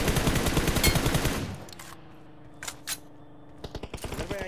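Rapid automatic M4 rifle fire in PUBG Mobile, a dense loud burst through the first second and a half, then a few scattered distant shots over quieter game ambience.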